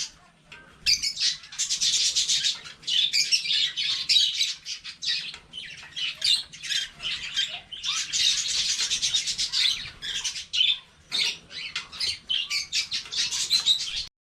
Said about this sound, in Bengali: এখানে হলো আরো কিউট কিউট কতগুলো পাখি